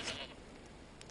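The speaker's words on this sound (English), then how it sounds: "That lone goat is still up there on its own, bleating." A lone goat bleats on a Fijian island, one short call at the start followed by quiet outdoor ambience.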